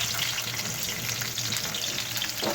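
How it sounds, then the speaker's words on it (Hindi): Onions frying in a pan with carom seeds for an aubergine bharta, a steady broadband sizzle that runs throughout at moderate level, with no talking. "अब हम प्याज डाल लेंगे अजवाइन में ही।"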